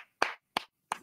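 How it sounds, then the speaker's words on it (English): Three sharp, separate hand claps ring out at an even pace, each followed by a brief silence, clear and close, with no talking. "Clap for yourself"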